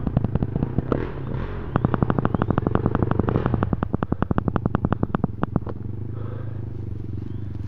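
A Yamaha motorcycle engine runs close by in the Lyulin mountains, its rapid ticking pulses quickening as it revs, then settling into a steady idle rumble. No one speaks.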